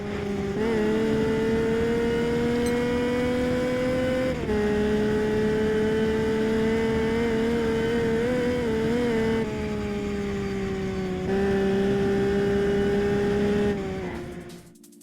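Car engines in the driving game Test Drive Unlimited drone and rev steadily, pitch rising and dropping through gear changes for about fourteen seconds before cutting off, loud and alone with no talk.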